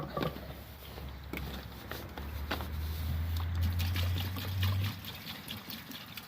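White vinegar is tipped out of a motorcycle fuel tank onto the floor, giving a faint, uneven trickle and splashing that swells in the middle of the pour and tapers off near the end.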